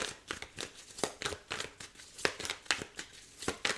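Tarot cards shuffled by hand in a run of quick, crisp riffling bursts with short pauses between them, close and moderately loud, with no talking.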